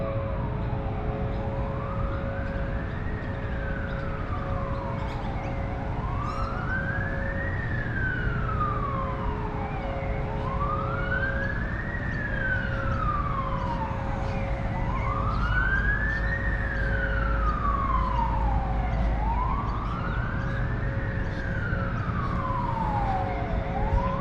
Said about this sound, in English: There we go, that's an ambulance or a paramedic that you would call over in America